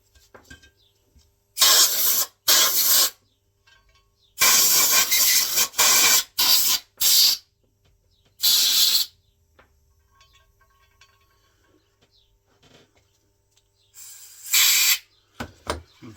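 Compressed air blasts through the oil drain holes of a Honda CB550 engine case, coming as several loud, hissing bursts of varying length separated by quiet pauses, with a final pair of bursts near the end.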